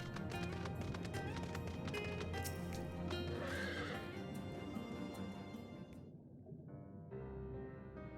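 A water horse from the video game Final Fantasy XIV, underwater in Shadowbringers, gives a loud whinnying neigh over clip-clopping hooves and game music, before the sound thins out near the end.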